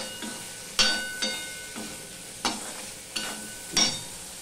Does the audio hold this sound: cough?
no